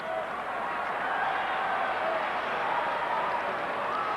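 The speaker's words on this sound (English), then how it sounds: "Well, you hear the fans booing," Baseball fans at a 1998 Yankees–Red Sox game in Boston raise a steady, loud crowd roar of booing that runs unbroken throughout.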